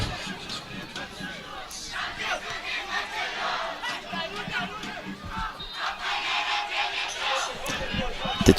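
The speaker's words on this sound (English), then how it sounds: "The cheering is loud from the Royal Blues on the stands." Royal Blues supporters cheer steadily from the stands at a Bhutan Premier League football match between Paro FC and RTC FC, a broad crowd roar with chatter that swells slightly toward the end.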